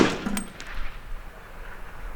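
A single loud rifle shot from a 300 Blackout rifle fired outdoors, a sharp blast at the start followed by a metallic ring and a fading echo.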